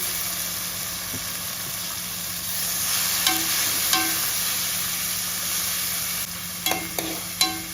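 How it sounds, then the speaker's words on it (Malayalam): Tomato and onion sautéing in oil give a steady, soft sizzle close by, with a few sharp utensil taps and scrapes toward the end. "തക്കാളി നന്നായിട്ടൊന്ന് വഴറ്റിയെടുക്കുക"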